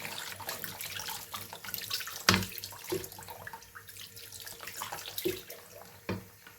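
Water running from a tap into a sink, a continuous close splashing stream broken by a few louder clunks and knocks.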